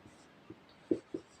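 Writing on a board produces a few short, soft tapping strokes close by, three brief marks in quick succession over a quiet background.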